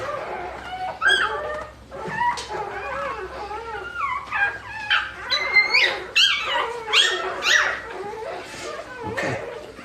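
Newborn puppy whimpering during a dog's delivery, a run of thin high squeaks and yelps coming in quick bursts, close and fairly soft, with occasional faint background sounds.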